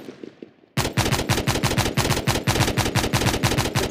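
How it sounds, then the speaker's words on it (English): Rapid machine gun bursts in a video game, loud and close, starting abruptly after a quiet moment and continuing as a dense, rhythmic stream of shots. "We got machine gun."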